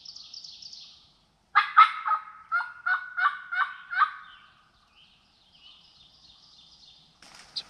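Wild turkey gobblers in a Minnesota field gobble in a burst of several rapid, rattling calls, with fainter calls before and after it. The sound is fairly near and clear over a quiet background.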